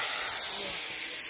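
Cumin-ginger paste and water hit hot oil in a pan while cooking katla fish curry, giving off a loud, steady hiss and sizzle that fades slightly over a second.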